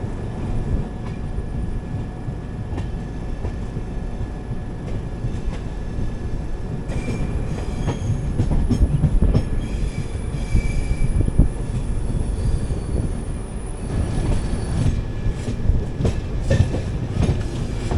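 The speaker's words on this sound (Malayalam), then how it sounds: "അപ്പോൾ അങ്ങനെ നമ്മൾ കണ്ണൂർ സ്റ്റേഷനിലോട്ട് കയറുന്നു." The 16511 Kannur Express pulls into Kannur station, heard from inside the train as a loud, steady rumble with rhythmic wheel clatter and rail noise swelling midway.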